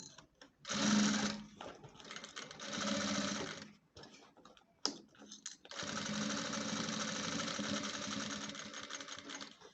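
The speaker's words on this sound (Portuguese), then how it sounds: "Tô costurando a partir da nossa costura de segurança." A sewing machine stitches a handbag from a safety seam, its motor buzzing in several runs of steady whirring with short stops between, fairly close and alone.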